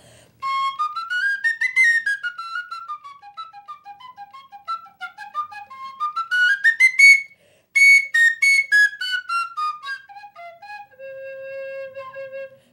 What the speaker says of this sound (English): Penny whistle.